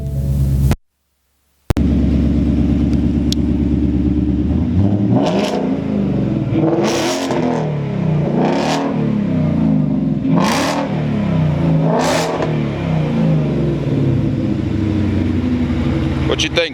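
A 2018 Ford Mustang Petty's Garage King Premier V8 fires up after a brief silence, then settles into a deep loud idle broken by five sharp throttle blips spaced a couple of seconds apart, with people speaking faintly in the background.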